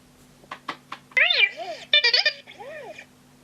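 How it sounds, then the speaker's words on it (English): R2-D2 intro played by a Graflex 2.0 Skywalker lightsaber sound board, a short run of electronic beeps followed by warbling, whistling droid chirps over a faint steady hum, close and clear with no talking. "Nice R2D2 intro there"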